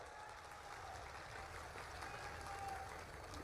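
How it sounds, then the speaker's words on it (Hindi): Crowd applause at a public political gathering in Guna city, heard as a faint, steady wash of many hands clapping at a distance, continuous for the whole stretch with no voices standing out. "अगर आप मेरे साथ सहमत हो तो तालियों की गड़गड़ाहट से ताली बजाओ"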